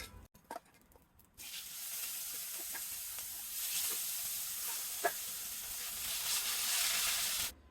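Tengra fish frying in hot oil in a pan gives a continuous bright hiss that starts abruptly after a moment of quiet, swells slightly midway with an occasional pop, then cuts off; no voices.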